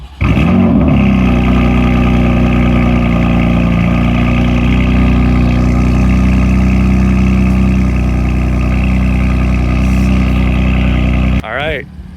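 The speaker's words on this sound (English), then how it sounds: "We're about to get a cold start on the M4." A BMW M4 engine with aftermarket midpipes fires up from cold and settles into a loud, rumbling idle with a deep exhaust tone, holding steady before cutting off near the end.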